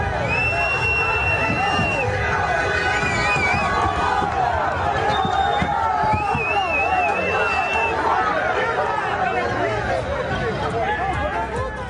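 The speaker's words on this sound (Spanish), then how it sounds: "Estábamos viendo de nuevo los abucheos a Sánchez este martes a su llegada a Ceuta" A crowd boos Pedro Sánchez on his arrival in Ceuta: a dense, loud roar of voices and jeers with whistles and shouts running steadily throughout.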